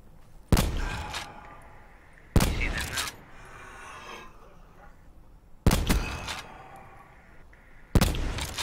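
Bursts of gunfire in the shooter video game Call of Duty: Black Ops 4, four loud volleys spaced a couple of seconds apart, with a low rumbling game ambience between them.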